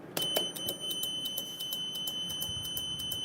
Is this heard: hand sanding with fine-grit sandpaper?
no